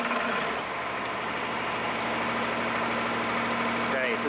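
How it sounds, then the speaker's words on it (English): The engine of a pump unit runs steadily at idle, a loud, constant mechanical drone with vibration while water is pumped out of a hose during antifreezing, continuing unchanged throughout. "now it is safe to start the engine and we're going to pump out the water"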